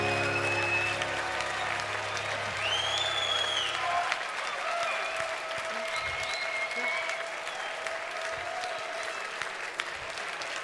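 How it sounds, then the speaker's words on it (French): An audience claps steadily for two pianists at a French youth book prize event, dense applause that holds from start to finish while a voice speaks over it. "Merci d'applaudir Karina Viennard et Elisabeth Venner."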